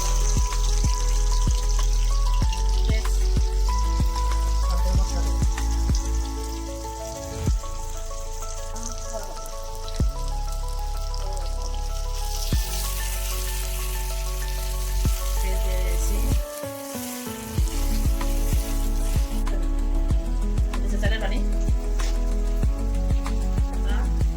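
Onions hit hot oil in a wok while shrimp biryani is being cooked, giving a loud, continuous crackling sizzle that swells partway through, heard under prominent background music.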